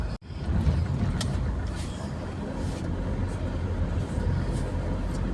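Heavy road traffic on a route in Antipolo, Rizal, a continuous loud rumble of passing cars and buses with engine drone and occasional hiss, close and unbroken throughout.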